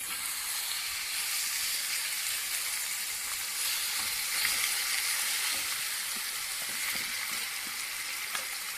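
Chicken pieces sizzle steadily in a hot pan while being cooked for a cream-free chicken stroganoff, a dense, even frying hiss with faint stirring clicks, close and continuous throughout.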